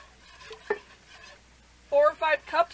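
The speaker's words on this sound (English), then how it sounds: "But you just want to keep whisking this in." Milk being whisked into clam chowder in a pot: a few soft strokes at first, then three louder, squeaky scraping bursts close by.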